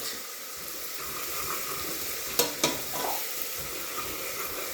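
Meat frying in oil with garlic and ginger for a meat and potatoes curry, a steady close sizzle with a couple of sharp clatters from stirring midway.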